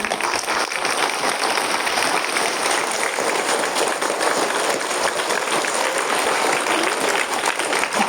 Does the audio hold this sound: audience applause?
yes